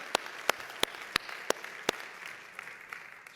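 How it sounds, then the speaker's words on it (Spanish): Sharp, sparse hand claps in a church, a handful of distinct loud claps at a steady pace followed by softer scattered ones fading out. "Dale un fuerte aplauso al Señor"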